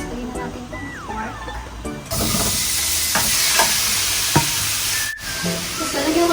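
Pork hits hot olive oil in a pan for adobong baboy, and a loud, steady sizzle suddenly takes over and keeps hissing close by, with a few faint clinks and voices underneath.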